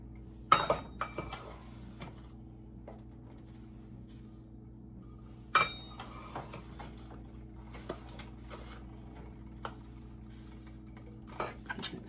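A spoon scrapes and clinks against a pot while sugar is stirred into cooking strawberry jam, with sparse, quiet taps and a couple of sharper knocks over a low steady hum.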